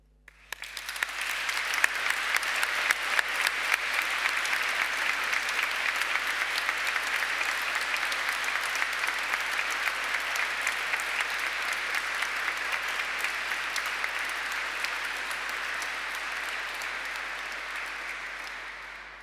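A cathedral audience at a Class of 2020 graduation ceremony applauds in remembrance of lost family and friends. The clapping builds quickly, then holds as a long, even, moderately loud round that fades slightly at the end, with no speech.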